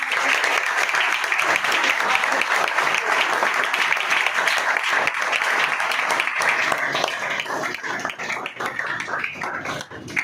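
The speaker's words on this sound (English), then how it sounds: "Let's encourage them with a round of applause" Students at an institute's English cafe session give a new student a sustained round of applause, loud and continuous for about ten seconds, with voices and a few yelps mixed in.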